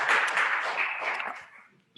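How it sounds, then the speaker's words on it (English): A public meeting audience applauds at a city park and trails bond election meeting, a dense burst of many hands clapping that fades out over about two seconds. "So I'm glad for the clapping"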